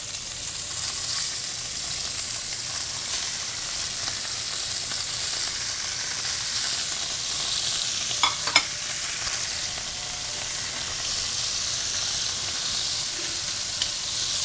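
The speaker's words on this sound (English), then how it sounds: "we have to get a nice, beautiful sear on these short ribs that are going to develop a lot of flavor" Beef short ribs searing in a hot pan for a braise give a loud, constant sizzle and hiss, broken by a few brief clinks of stirring or turning in the middle.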